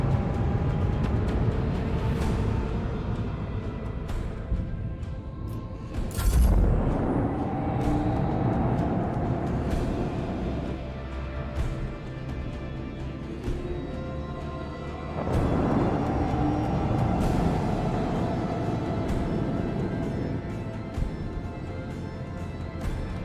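Starship engines rumbling in Warhammer 40k: Rogue Trader, a steady low drone that swells in two loud surges, one around the sixth second and a longer one from the fifteenth, with no talking over it.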